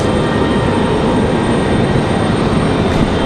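An Airbus A320 jet departing Raleigh Durham International Airport gives a loud, unbroken engine roar, dense and even throughout the short stretch.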